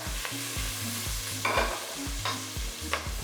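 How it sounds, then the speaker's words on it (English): Onions and garlic fry in a pan with a steady, fairly hard sizzle, a utensil stirring and scraping in a repeating rhythm, close up, no talking. "I think this is sizzling a little bit too hard"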